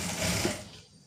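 A sewing machine runs a quick burst of stitching along elastic on a straight-cut pant waistband, loud and close, then winds down and stops within about a second.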